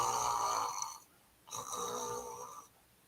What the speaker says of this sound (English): I'm snoring like a baby right now.